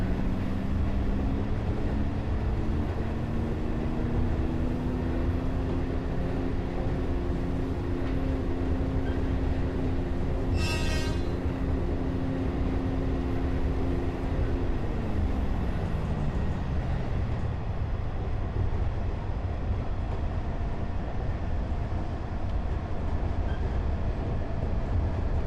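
Train from a train-driving video game running steadily, a continuous low rumble with a sustained droning tone that shifts and falls as it rounds a bend, plus a brief hissing burst midway; no talk.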